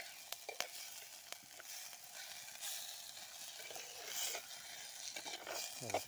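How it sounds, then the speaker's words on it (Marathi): Wild-flower vegetable bhaji frying in a pan outdoors, a soft steady sizzle with intermittent scrapes and light taps of a spoon stirring, fairly faint throughout. "हलवून घ्यायची आपल्याला आपली भाजी"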